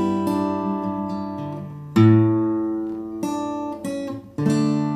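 An acoustic guitar rings out low A bass notes and chord tones, several plucks each left to sustain and decay, close and clear, with no talking.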